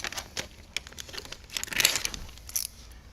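Window tint film being cut and handled on the front door of a 2019 Jeep Grand Cherokee, heard as close, faint crinkling and crisp slicing scratches in short irregular bursts, with a louder rustle midway.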